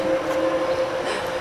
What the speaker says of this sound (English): It's a train. You heard a choo-choo train?